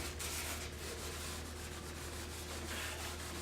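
Steel wool dipped in paint stripper scrubs the ebony cabinet of a Zenith 6S27 radio during refinishing, giving a continuous close scratchy rubbing over a low steady hum, with no voices.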